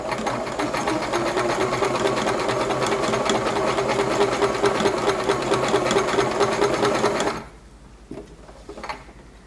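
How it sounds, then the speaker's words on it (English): A sewing machine runs a straight stitch along a 5/8-inch seam on a fabric sample, its steady rapid whirring and needle clatter continuing loudly for about seven seconds before stopping abruptly, leaving a quiet room with a few soft knocks. "continuing my straight stitch until the next corner"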